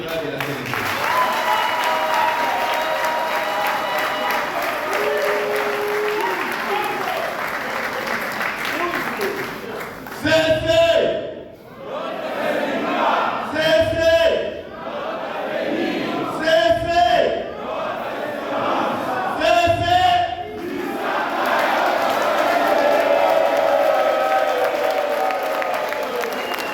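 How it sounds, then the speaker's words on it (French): A crowd at a Labour Day celebration for a social security agency applauds and cheers at length, loud sustained clapping broken by a few short pauses where voices shout or chant, then swelling again. "Si vous avez le main, applaudissez pour la direction générale de la CNSS."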